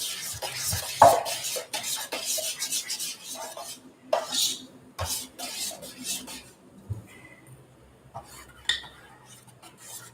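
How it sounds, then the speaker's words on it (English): A spoon stirs tomato sauce in a metal pot, giving scattered clinks and scrapes against the pot with soft wet stirring between, fairly quiet and close. "I'm gonna add a little bit more, and then I'm gonna stir that in."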